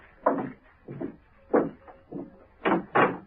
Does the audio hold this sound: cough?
no